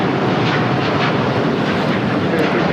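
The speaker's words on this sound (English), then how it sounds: "That was United 801 taking off to Hong Kong on the 787-9 Dreamliner." A United Boeing 787-9 Dreamliner takes off from LAX on a flight to Hong Kong, its engines producing a loud, steady broadband roar that fills the whole clip close at hand, with no voices over it.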